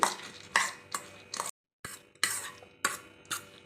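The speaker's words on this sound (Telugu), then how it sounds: "ఇప్పుడు ఇందులోకి పచ్చి కొబ్బరి తురుమును వేసుకోవాలి వేసుకున్నాక మొత్తంగా బాగా కలుపుకోవాలి" Moong dal prasadam stirred with grated fresh coconut, a spoon scraping against the pot in several short, separate bursts with a brief silent gap partway through, heard up close with no voices.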